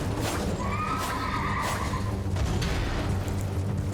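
A Night's Cavalry horse in the video game Elden Ring whinnies and snorts under a dense, continuous layer of game music and combat noise, with a short neighing phrase rising near the start.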